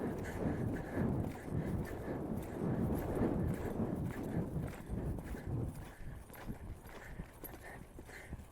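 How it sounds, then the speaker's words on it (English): Horse loping around an arena, its hooves giving a steady, rhythmic three-beat clip-clop on soft footing, moderately distant and fairly quiet. "I'm just gonna lope around here and soften him up because he's getting a little too bracy."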